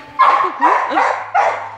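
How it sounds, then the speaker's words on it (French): Dachshunds bark at a breeding kennel, four sharp, close barks in an uneven rhythm with short pauses between them, loud and without talk. "donc les teckels ils sont au fond là"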